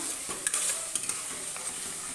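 Turmeric, chilli and cumin powder being stirred in a hot frying pan: a steady sizzle with a few light spoon-against-pan clinks, close by and with no talking.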